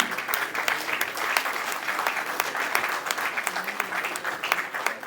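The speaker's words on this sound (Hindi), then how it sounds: "भरपूर तालियां दी।" A crowd at a political gathering in Pakistan claps for the guests: a loud, continuous run of sharp hand claps lasting a few seconds with no talking.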